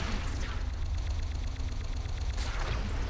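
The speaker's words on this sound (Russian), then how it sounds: "Я слышу, как что-то в меня стреляет, но я не вижу, что." Rapid gunfire hits the player in the Spider-Man: Shattered Dimensions video game, a continuous loud barrage of quick repeated shots over a rumbling low background, with no speech.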